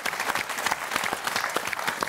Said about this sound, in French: je vous propose d'applaudir Stéphane